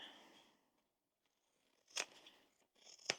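Scissors trim the fabric seam allowances of a sewn tote bag lining, giving two sharp, close snips about a second apart after a soft rustle of fabric. The sounds are quiet, with no voices.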